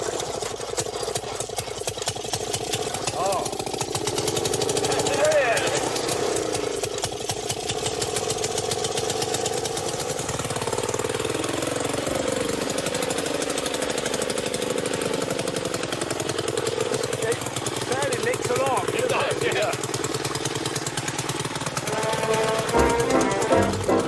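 A motorised lawnmower engine runs steadily throughout, a loud mid-pitched droning rumble close by that holds a constant idle-like rhythm with slight shifts in tone, with no talking over it.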